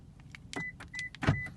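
The key fob of a 2016 Toyota Prius triggers its door locks, giving two quick, close mechanical clunks about a second apart, each with a faint short chirp, with quiet background and no talk.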